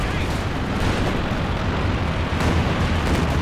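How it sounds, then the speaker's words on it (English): A Katyusha rocket barrage in a tank war video game, a dense, loud roar of overlapping explosions with a voice speaking over it. "big Katyusha barrage"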